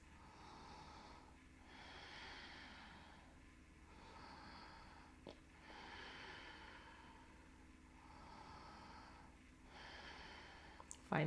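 Deep yoga breathing, slow steady inhales and exhales alternating in long even waves, soft and close, with a quiet hum underneath.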